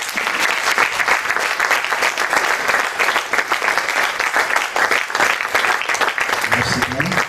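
An audience at a Bible dedication event in Dimbokro applauds, dense sustained clapping that carries on evenly with no break.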